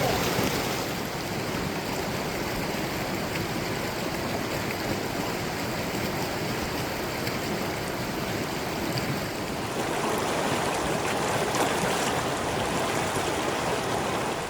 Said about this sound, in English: the deepest, scariest creek crossing I've ever done